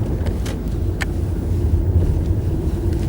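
An Audi A4 with a continuously variable multitronic gearbox drives along, a steady low engine and road hum heard from inside the cabin with some wind noise, smooth with no gear-change breaks.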